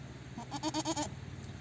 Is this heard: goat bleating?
yes